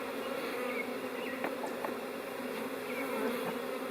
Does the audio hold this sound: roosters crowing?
no